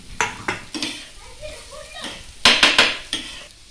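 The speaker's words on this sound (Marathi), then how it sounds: "तर आता हे तेल तापलं आहे त्याच्यात मी आता कांदा टाकते ते कांदा टाकलाय आणि कांदा भाजून घ्यायचा टोमॅटो टाकून घेते" Onion and tomato go into hot oil in a pan for Indian egg bhurji, and a ladle scrapes and knocks against the metal in repeated close clatters over a soft sizzle, with someone speaking between the strokes.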